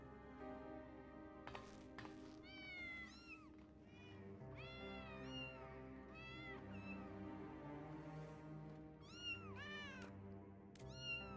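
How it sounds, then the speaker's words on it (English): Cats in Final Fantasy XIV meow repeatedly in short, rising-and-falling calls scattered across the stretch, several overlapping at times, fairly quiet over a soft background of game music. "Bro, you can't abandon your kitties."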